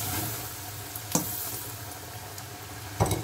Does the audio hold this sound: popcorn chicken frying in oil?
yes